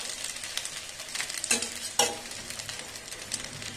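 Chicken pieces drop into a hot pan and fry with a close, steady sizzle, broken by stirring scrapes and two sharp bursts of spatter as pieces land.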